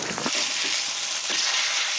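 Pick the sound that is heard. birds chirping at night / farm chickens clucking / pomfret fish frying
pomfret fish frying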